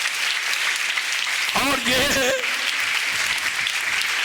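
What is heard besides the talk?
congregation applauding loudly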